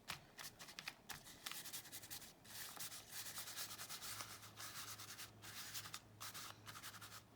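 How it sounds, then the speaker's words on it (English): Rubbing and scuffing on paper during a mixed media craft session, quiet and close, a rapid irregular series of dry brushing strokes with brief pauses between, no voices. "Now I'm kind of rubbing."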